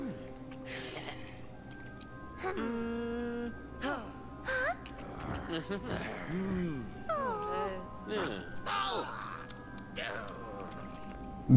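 Several meows from a cat in the LEGO Harry Potter video game rise and fall over game music and effects, with someone talking in between.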